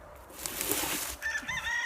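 Backyard chickens, including a Wyandotte hen, cluck and squawk nearby in a short burst of calls over light outdoor background noise, with no talking.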